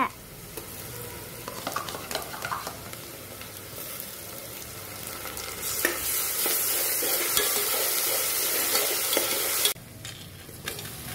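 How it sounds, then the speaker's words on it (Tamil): Ginger garlic paste frying with sautéed onions for mushroom biryani, a steady close sizzle with scraping stirs and clinks, growing louder and denser midway before a brief drop, with no talking. "வெங்காயம் நல்லா வதங்கினதும் இஞ்சி பூண்டு பேஸ்ட் போட்டுக்கோங்க."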